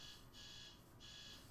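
An alarm going off, a faint repeating electronic beeping in even pulses roughly every half second, heard alone with no talk.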